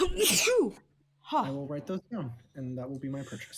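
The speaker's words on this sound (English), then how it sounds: "I sneezed again." A single loud sneeze bursts out at the start, followed by a pause and then a person speaking nearby during a tabletop role-playing game session.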